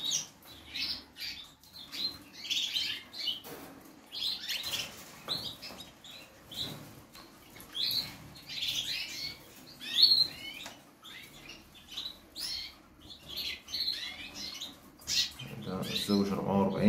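Small birds in an aviary of breeding pairs chirp and tweet in frequent short bursts throughout, moderately loud and close, with someone talking steadily underneath.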